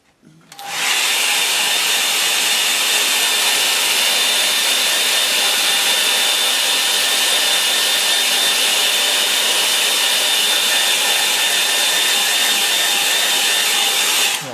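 A hair dryer blows steadily on a gouache painting of an autumn shower, a loud, continuous whooshing hum with a thin high whine that runs unbroken for about fourteen seconds, with no talking.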